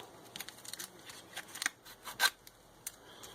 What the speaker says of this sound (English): You take one edge of your scissors and your thumb and grab it and pull.